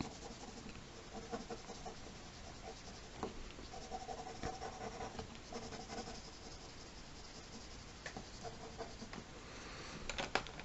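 Wax crayon rubbing and scratching across paper during sticker-art colouring, a quiet continuous scribbling texture with small stroke ticks, close up and without talk.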